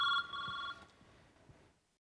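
Telephone ringing with a bright electronic trill, one burst of ring tone that cuts off as softer background clatter continues and fades.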